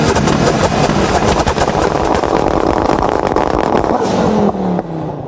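Audi 2.2-liter twin-cam turbocharged five-cylinder with four valves per cylinder and a huge turbo, roaring loud and close under hard acceleration, then dropping off abruptly near the end.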